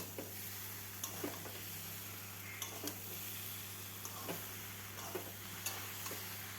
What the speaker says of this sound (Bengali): তারপর তৈরি করে রাখা মিহি পেস্ট দিয়ে দিলাম, আবারও ভালোভাবে নেড়ে দেব।